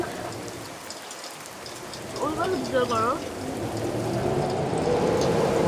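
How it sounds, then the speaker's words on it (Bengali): Heavy rain from Cyclone Remal pours down in a steady, dense roar that swells louder toward the end, with a short wavering tonal call rising briefly over it near the middle. "সাথে প্রচুর পরিমাণ বৃষ্টি হয়েছে"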